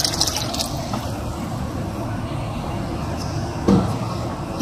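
Milk poured into white chicken biryani with palak, a steady liquid splashing and gurgling pour that runs throughout with a brief louder burst near the end, and no voices.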